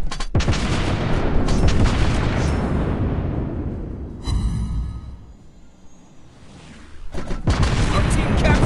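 Naval gunfire in a World of Warships battle: loud booming cannon salvos that roll into rumbling decay and fade, then a fresh heavy volley near the end.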